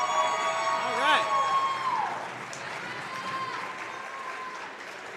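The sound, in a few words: audience applauding student athletes at basketball game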